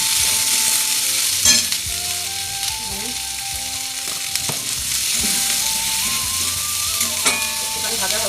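Chopped ginger, onion, capsicum and green chili fry in hot oil, a loud, even sizzle held throughout with the scrape and tap of a spatula stirring close by.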